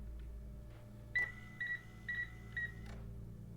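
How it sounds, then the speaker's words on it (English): Electronic drones in a puzzle video game beep in a quick series of four short, bright tones spaced evenly over a low steady background hum, with faint clicks at the start and end and no talking. "They beep at me."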